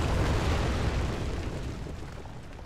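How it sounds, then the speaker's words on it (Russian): Explosion in the horror video game The Evil Within, a broad roaring blast that fills the space and slowly decays into rumbling debris, loud and close with no talking. "Ох, сейчас бабахнет."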